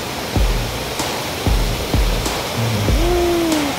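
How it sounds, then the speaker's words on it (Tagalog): Steady broadband rush of the waterfall at Secret Falls fills the whole clip, loud and constant, with brief knocks and a rising whistle-like tone over the spray. "May bagsakan ng tubig, oh."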